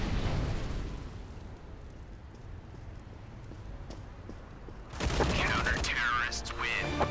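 An incendiary grenade bursting into flame during a hostage round of CS:GO, a sudden loud roaring whoosh that sustains for about two seconds after a stretch of low game rumble and distant noise.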